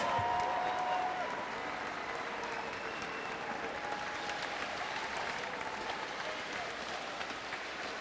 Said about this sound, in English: Fans, one more round of applause for Adam Simon, Dan Craig, DeAndre Liggins, and Jarnell Stokes of your Sioux Falls Skyforce.